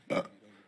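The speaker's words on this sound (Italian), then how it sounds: "hai ruttato prima di venirmi nell'orecchio" A single short, throaty burp close to the microphone, one quick guttural burst that fades into quiet room noise.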